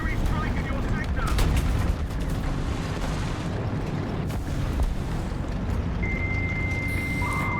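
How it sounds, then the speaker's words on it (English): Artillery strike in War Thunder: a dense, continuous barrage of heavy explosions and booms rumbling loudly throughout, with near and distant blasts overlapping, a tone sounding near the end, and a voice partly buried under the blasts. "Artillery strike in your sector!"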